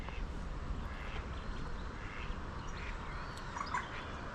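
Ducks and ducklings quack faintly in the distance, short scattered calls buried under a loud, steady outdoor rumble of wind or traffic.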